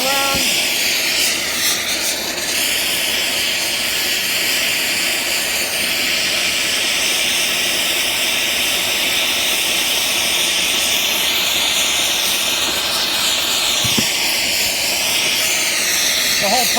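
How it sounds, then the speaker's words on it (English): A plumber's torch flame heating a lead wipe joint: a steady, loud roaring hiss that runs unbroken throughout, close by, with a voice speaking over it. "if you hold the torch on there for a while"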